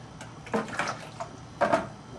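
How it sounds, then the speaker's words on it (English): Easy Clean cleaning solution poured over a plastic fermenter lid, two short splashy gushes with light knocks of handling in between, close and fairly loud. "Just pour over the lid to sterilize the inside of the lid"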